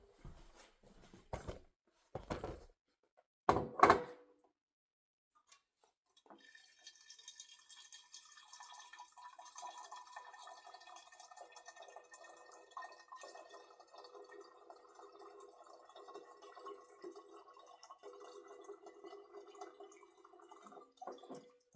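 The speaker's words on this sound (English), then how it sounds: "then you're going to want to put filtered water in here and rinse it off." Filtered water poured into a jar of sprouting lentils, starting with a few sharp knocks and splashes, then a steady soft trickle and slosh of water running in and swirling for the rest of the clip, close and fairly quiet.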